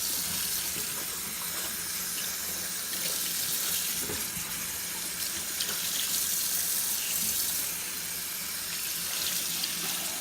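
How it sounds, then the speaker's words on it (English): Cold tap water runs steadily into a sink while dyed fabric is rinsed, a continuous bright hissing splash that stays even for the whole stretch, with no talking. "So now it's just cold water."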